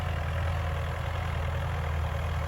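An engine-driven sprayer applying pesticide to a bean field runs at high revs, producing a steady, even mechanical drone at moderate distance with no talk.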